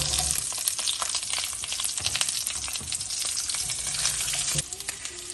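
Sliced onions fry in a pan with cumin, two cardamom pods, a cinnamon stick and a bay leaf. A dense, close sizzle with crackling continues throughout, then eases slightly near the end.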